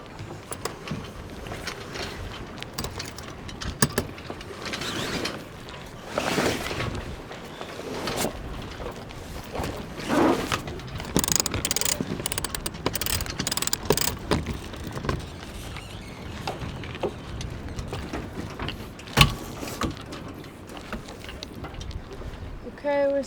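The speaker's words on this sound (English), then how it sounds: "Okay, we're sailing." A sailboat under way near Minneapolis Sailing Center carries water splashing against the hull, wind buffeting the microphone and creaking, rattling rigging, with people talking intermittently over the steady churn.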